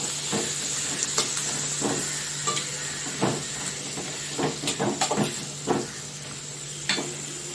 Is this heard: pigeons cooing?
no